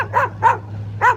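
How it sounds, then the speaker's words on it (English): A dog gives three quick, separate barks at moderate distance over a low steady hum, with no talking. "Oh, look at the doggy."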